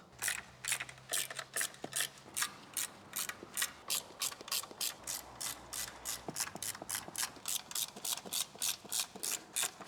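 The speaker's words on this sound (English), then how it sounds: "now I will grab all the bolts, use some Loctite on them, and torque them all around." Rapid ratchet clicks in repeated bursts, close and alone, as a hand ratchet tightens Loctite-coated bolts during an 8HP transmission swap on a BMW E38 750i.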